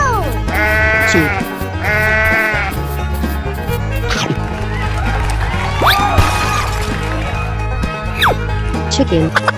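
Sheep bleat loudly in several wavering, repeated calls, two strong quivering bleats early then more scattered cries, mixed with other animal sounds and background noise.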